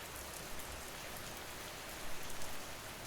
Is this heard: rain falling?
yes